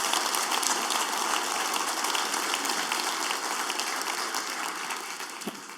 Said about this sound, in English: Let's give all of our performers one more round of applause.